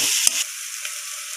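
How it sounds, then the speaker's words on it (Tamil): Bitter gourd curry being stirred as it fries in a pan gives off a steady, close sizzle with a brief scraping knock from the stirring near the start. "இப்போ இதை நல்லா கிண்டி விட்டுடலாம்"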